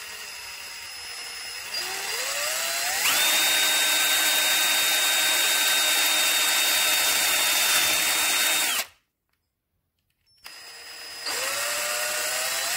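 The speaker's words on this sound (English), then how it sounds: "So my husband's just going to drill the tops for me." A power drill with a thin bit bores through bottle cap tops, its high whine ramping up and holding steady for several seconds, cutting out briefly, then spinning up again; someone speaks a few words.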